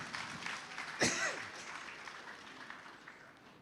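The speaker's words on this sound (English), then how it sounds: "So let's give that a round of applause." At a Divali celebration, an audience gives a round of applause. The clapping is faint and distant, a soft steady wash with one sharper burst near the start that fades gradually.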